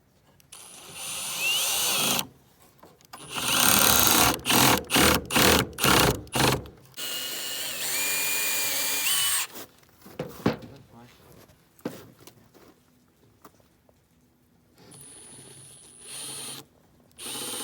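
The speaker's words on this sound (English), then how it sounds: "now I'm pre-drilling for the holes for these screws" A cordless power drill pre-drills screw holes into wood for a DIY bird feeder, whirring in several loud bursts, including a rapid series of short pulses, then quieter handling clicks and knocks.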